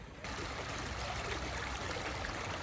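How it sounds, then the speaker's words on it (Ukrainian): Stream of water flowing steadily outdoors in Zakopane, Poland, a continuous broadband rush that starts abruptly and stays loud and even throughout, with no voices. "Тече вода, не зна зупинку."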